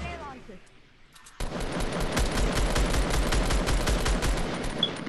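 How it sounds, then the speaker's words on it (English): Weapons in Fortnite fire in a rapid rhythmic burst after a quieter opening, sharp and loud, with talk faintly underneath. "Shoot your grenade launcher."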